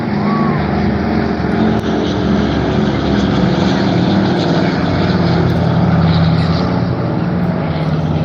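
A C-47 Dakota transport plane drones past at an airshow, its twin propeller engines making a loud, steady, close roar throughout, with a faint voice underneath.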